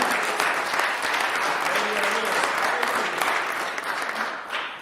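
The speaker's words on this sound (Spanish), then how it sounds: "Démosle un fuerte aplauso a nuestro Señor Jesucristo." A church congregation applauds together in a steady, dense wash of clapping that holds for several seconds before easing slightly at the end.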